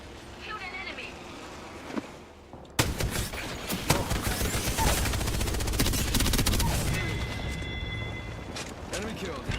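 Rapid bursts of video game shooter gunfire, loud and close, crackling in dense volleys after a quieter opening, with people talking over the shots.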